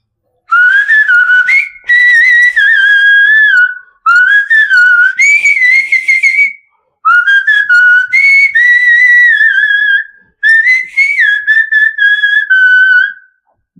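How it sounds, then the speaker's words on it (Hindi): A man whistles a Hindi film song, four clear melodic phrases in turn, loud and close, with short pauses between them and no talk. "मतलब गानों के मुखड़े को ही आप सीटी के माध्यम से सुनाते हैं कि पूरा गाना?"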